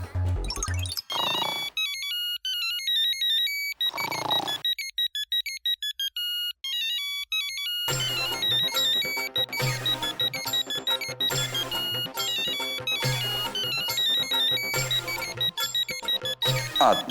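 A phone ringtone plays loud and clear: a sparse electronic melody with brief pauses, then a fuller, beat-driven arrangement with bass that keeps ringing throughout.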